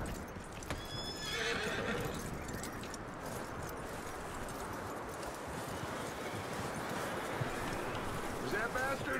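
A horse in the Red Dead Redemption 2 video game whinnies near the start, then its hooves clop in a steady, close rhythm throughout over faint wind and game ambience.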